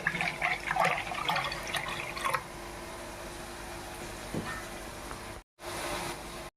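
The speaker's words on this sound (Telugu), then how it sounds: "దాంట్లోకి నెక్స్ట్ పాలు కూడా పోస్తాను" Milk poured into a pot while making Tirumala-style sweet pongal, a splashing, gurgling pour that is busiest at the start and then fades to a quieter trickle, ending after a brief cut.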